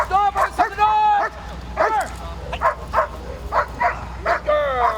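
A police dog at the Massachusetts State Police headquarters, during a bite-and-hold training demonstration, gives close, loud yelps and whining barks in short bursts while someone talks over and between them.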